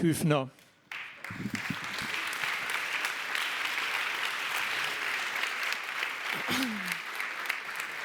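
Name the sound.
audience applause at a conference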